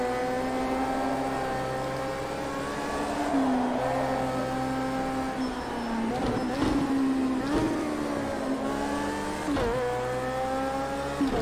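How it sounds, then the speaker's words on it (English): A 2017 BAC Mono open-cockpit race car in Project Cars 2 circles Donington Park GP, its engine a steady, high whine that dips and rises through repeated downshifts and accelerations, with no talk. "little red sports car, open cockpit, and the engine sounds brilliant."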